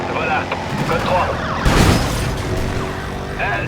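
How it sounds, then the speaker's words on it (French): A police car in Need for Speed World drives during a pursuit, with a wailing siren over engine and road noise and a loud rushing burst midway, under some talk. "On reprend la poursuite, Sirène."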